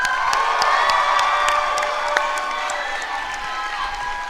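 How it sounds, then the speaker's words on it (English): Applause and cheering from a graduation ceremony crowd for a string ensemble, a sustained roar of clapping with whoops and shouts, while a tonal musical chord rings beneath. "Can we get a huge round of applause for the string ensemble,"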